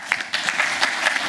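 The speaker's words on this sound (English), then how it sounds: "let's give Omar and Stefan a round of applause." A conference audience applauds the speakers with close, dense clapping, bright and sustained, with individual claps popping out of the steady wash.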